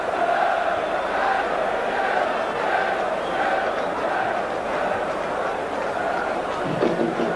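A large football crowd at Upton Park on a frosty January cup night, West Ham United against Aldershot, fills the air with a steady, dense roar and murmur of massed voices, sustained throughout with no break.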